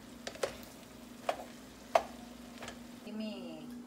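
Chiles cooking in a pan with mushrooms, onion and garlic, a faint sizzle underneath with a few distinct stirring knocks against the pan.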